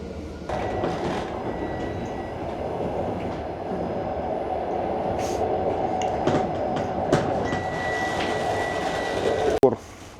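Steady rumble and rattle inside a moving Krasnaya Strela passenger train compartment carriage, with occasional clicks and a sharp knock near the end; faint voices under the noise.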